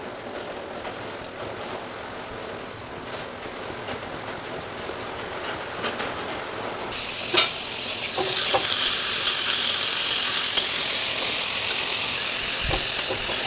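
Paratha and potato curry cooking in a pan in a home kitchen, a steady frying sizzle and hiss that grows louder midway, with occasional stirring clinks and no talk over it.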